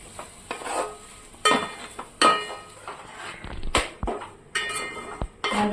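Gongura paste being stirred into egg curry in a pan, heard as repeated scraping and clinking strokes of a spoon against the pan in an irregular rhythm, close up with a faint sizzle and no talking.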